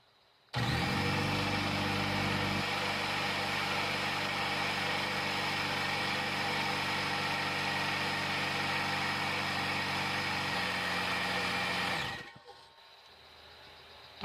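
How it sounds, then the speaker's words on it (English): An onboard air compressor on a motorhome chassis starts abruptly and runs with a loud, steady electric hum and whine for about eleven seconds, then winds down and stops. "So no matter where I am, I need the compressor running,"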